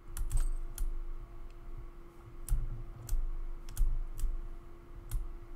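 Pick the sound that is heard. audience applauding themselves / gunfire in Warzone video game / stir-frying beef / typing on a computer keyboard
typing on a computer keyboard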